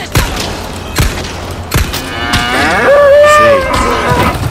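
An angry cow in the video game Resident Evil 4 Remake lets out a long, loud moo after being shot, following a few sharp gunshot-like thuds, with no talk over it.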